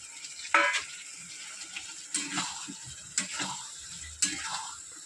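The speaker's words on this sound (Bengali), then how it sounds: "আলুগুলো দিয়ে একবারে ভালো করে কষাবো।" Potatoes sauté in a pan at home, giving soft sizzling with intermittent scraping stir strokes, four distinct clattering stirs spaced about a second apart, close and moderately loud.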